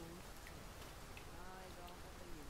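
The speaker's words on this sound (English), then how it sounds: "Standing out here in the rain." Steady rain falling in the video game Dragon's Dogma 2, a soft continuous hiss under faint game sounds and voices.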